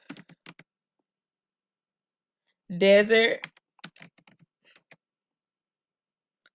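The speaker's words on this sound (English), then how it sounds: "I am typing" Sparse keystrokes on a computer keyboard tap in light, irregular clusters, close by. A short spoken word breaks in partway through.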